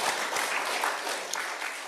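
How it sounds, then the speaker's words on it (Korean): A church congregation at a Sunday worship service applauds in a dense, steady wash of clapping that holds evenly throughout, fairly full and close. "다시 한번 큰 박수 부탁드립니다"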